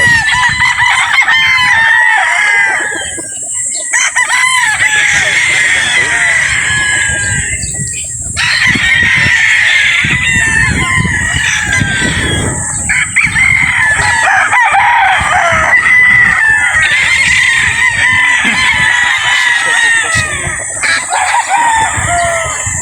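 Boston Black gamefowl roosters crow repeatedly and loudly at a game farm, several birds overlapping with clucking between the calls and a faint voice now and then.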